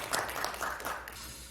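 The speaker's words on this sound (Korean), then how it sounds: "큰 박수로 맞아주시면서 시작하도록 하겠습니다" Sustained applause from a conference audience welcoming a macroeconomics and finance session, a dense, steady wash of many hands clapping at moderate distance with no voices over it.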